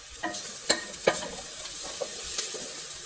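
Onion and garlic cooking in a pot for Yemeni fahsa, a soft continuous sizzle with a few sharp stirring clinks and scrapes close by, no voices.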